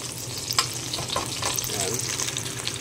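Aromatics sauté in a hot pan for a squash-in-coconut-milk dish, a steady close sizzle with a few clinks and stirring scrapes.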